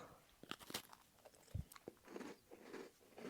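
Crisp bites and crunchy chewing of a Bimo Galette, an Algerian plain shortbread cookie with a waffle-like look, come as several sharp close-up snaps and one deeper crunch, followed by softer chewing sounds.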